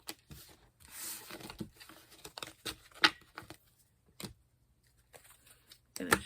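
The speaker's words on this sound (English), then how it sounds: "Shuffle, shuffle, shuffle." Tarot cards are shuffled in uneven bursts of rapid papery riffling and slapping, with quiet gaps between, fairly close and moderately loud.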